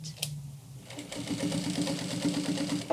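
A sewing machine stitches a jeans hem, starting up after a brief pause into a fast, even mechanical chatter that runs steadily and close up.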